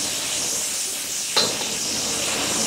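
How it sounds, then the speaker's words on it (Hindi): Capsicum, red chilli and ginger frying in butter in a restaurant kitchen give a steady, loud sizzling hiss, with one brief sharper crackle partway through and no talk. "पूरा बटर में भुन रहे हैं ये"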